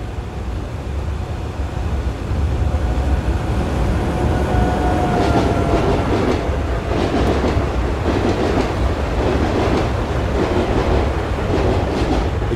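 A video-game train on the Albula Line runs on rails with a steady rumble and rhythmic clatter, a thin wheel squeal appearing early, loud and continuous throughout.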